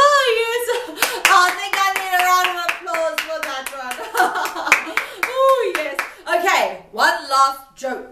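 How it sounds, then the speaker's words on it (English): Children clap in a loose burst during a joke-telling drama game. The claps are irregular and sit under a voice and an adult's animated talking. "I think I need a round of applause for that one"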